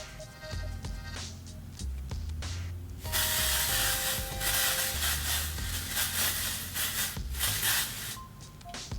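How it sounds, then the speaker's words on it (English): Quai texturizing hair spray misted over hair during styling with clip-in extensions, a broad steady hiss running for several seconds with short pauses, close and fairly loud with no talking. "where I'm going to be using the Quai texturizing spray"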